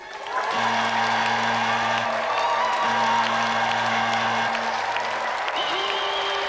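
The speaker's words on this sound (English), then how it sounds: "So let's give another round of applause for Clive, Borden and Richard Wadling." A TV game show studio audience claps steadily for several seconds, a dense even wash of applause, with music playing underneath.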